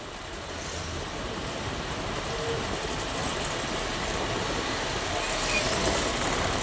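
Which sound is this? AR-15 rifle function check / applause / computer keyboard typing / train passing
train passing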